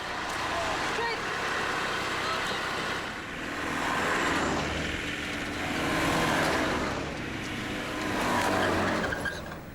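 Land Rover Discoveries grind off-road across rough Mongolian terrain, their engines roaring and surging in waves with tire and mud noise, a loud continuous rumble with speech faintly mixed in.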